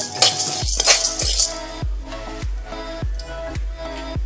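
Roasted chana dal (split gram) being stirred and tossed in a hot kadai, giving a run of quick dry scraping clinks with regular sharp knocks of the ladle against the pan. The sound is close, with no talk.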